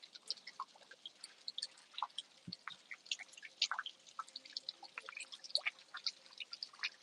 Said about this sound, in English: with spring water coming out.